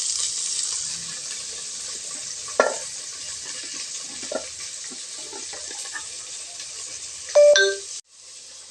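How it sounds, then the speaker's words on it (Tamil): Onions and curry leaves sautéing in a pan, a steady soft sizzle with occasional stirring scrapes and a brief metallic clink near the end, no voices. "வெங்காயம் வதங்கட்டுங்க."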